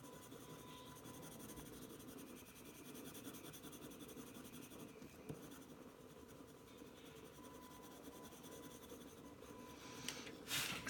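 A Spectrum Noir ColourBlend pencil is rubbed across paper in a soft, continuous scratchy colouring sound, close and quiet, steady throughout with a couple of small taps and a sharper scrape near the end.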